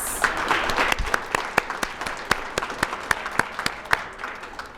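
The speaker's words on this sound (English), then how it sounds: "Let's give our clubs and all the volunteers a round of applause." An opening-ceremony audience at a money and coin show applauds the clubs and volunteers: a steady mid-level patter of clapping from a crowd, with sharper individual claps standing out throughout.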